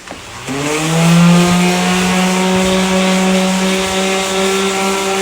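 A power sander works on the rear bumper of an Infiniti G35, its motor whirring up in pitch and then holding a steady, loud tone for several seconds with no talking.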